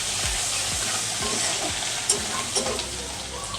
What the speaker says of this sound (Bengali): একটু নেড়ে নিচ্ছে।